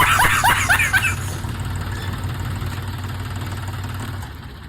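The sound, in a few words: engine running after repair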